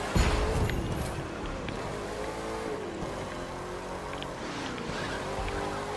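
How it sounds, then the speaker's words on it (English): Car drifting in the racing video game The Crew 2, a loud revving engine with sustained tire squeal sweeping in pitch over six seconds, close and continuous with no talking. "Gonna have to do a drift"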